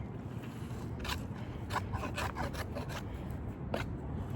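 Material is trimmed and cut by hand, giving soft repeated rubbing and scraping strokes in an uneven rhythm, close and fairly quiet, without talk.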